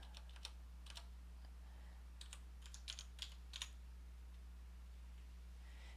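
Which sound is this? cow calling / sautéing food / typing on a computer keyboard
typing on a computer keyboard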